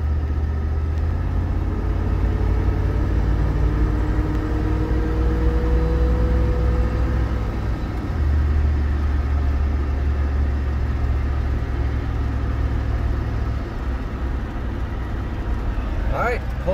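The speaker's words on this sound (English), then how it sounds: "Driving the 85 Ram W150. Give it a little gas." A 1985 Ram W150 pickup with a 318 V8 and Holley four-barrel carburetor driving along, a steady low engine drone and road rumble rising slightly as it accelerates, with someone talking over it.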